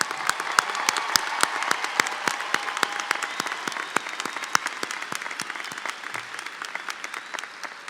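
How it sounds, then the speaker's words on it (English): A graduation audience applauds the class of 2019 at a university commencement, a dense, steady roar of many hands clapping that carries evenly through the whole stretch with sharp individual claps popping out near the front. "could we all please give the class of 2019 a big round of applause?"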